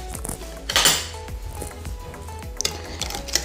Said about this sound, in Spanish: Ahora, lo que vamos a hacer es mezclarlo.